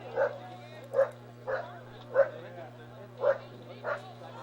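A dog at a college baseball game barks six times in an even rhythm, sharp yips standing out over a constant low hum, with a commentator talking faintly beneath.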